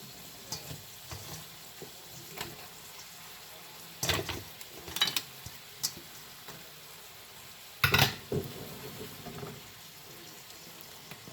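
Brussels sprouts cook slowly in a pan under a low, steady sizzle, with bursts of louder crackling and stirring scrapes around the middle and again later, heard up close with no one talking.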